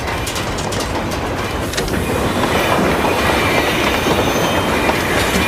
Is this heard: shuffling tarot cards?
no